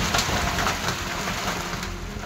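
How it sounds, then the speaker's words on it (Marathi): Heavy rain driven by strong wind, a dense, steady hiss of downpour with gusty roar underneath, fairly loud and continuous, no voices. "जोरदार वाऱ्यासह पावसानं"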